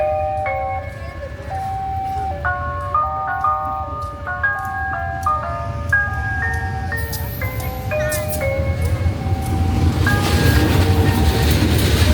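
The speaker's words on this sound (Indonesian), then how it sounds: "Oke, lokomotifnya sudah kembali ke stasiun Madiun ya" A locomotive near Madiun station in Indonesia rumbles steadily close by while a stepped, melodic series of tones sounds over it, and the running noise grows louder toward the end.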